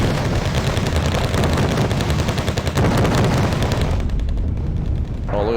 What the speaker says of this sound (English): look at those 25mm go to work.